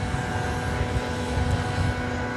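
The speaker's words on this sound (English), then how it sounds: "That was flight 3170 coming in from Durango, an American Eagle flight." American Eagle passenger plane on approach to land at DFW Airport: a steady, loud engine roar with a low rumble heard from outdoors, continuous and without speech.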